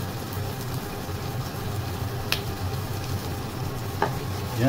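Chorizo frying in a pan for homemade fried rice, a continuous close sizzle with soft stirring scrapes and a couple of sharp utensil clicks, no voices.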